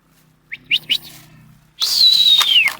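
Domestic pigeons out flying in the evening, with a few short chirps followed by a loud, sustained whistling call close by. The sound stands alone with no talking.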